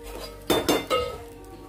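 A metal lid set down on a pan of sabudana khichdi over a low gas flame, giving a few close clanks and clinks of metal on cookware in quick succession, with no talking.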